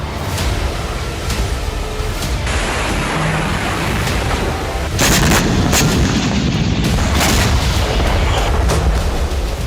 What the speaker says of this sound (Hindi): सूमी को भी रूस ने बारूद से दहला दिया